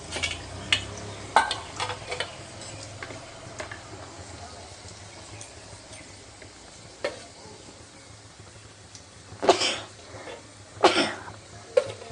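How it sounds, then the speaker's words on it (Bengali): Onions fry in a pan with a quiet, steady sizzle, punctuated now and then by clacks of a utensil stirring, a couple of them louder near the end. "পেঁয়াজটা যেই একটু ভাজা ভাজা হয়ে যাবে আমার"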